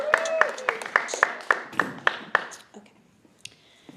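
Audience clapping at a student debate, a run of about nine sharp, evenly spaced claps in the first half, fairly close, then fading into quiet room sound with a few scattered taps.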